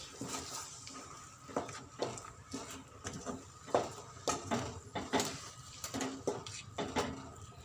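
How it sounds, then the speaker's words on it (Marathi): Mango pulp being stirred into warm milk in a pan for mango shira: soft, repeated scraping and clinking of a spoon against the vessel in an uneven rhythm, fairly faint and close, with no voice. "आता त्यामध्ये आंब्याचा गर टाकून घेते आता छान एकजीव करून घेते"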